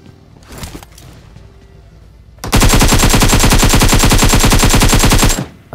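Rapid automatic gunfire sprays in BGMI, a long, loud, even burst of closely spaced shots that starts abruptly after a few seconds of quieter game ambience and runs to near the end.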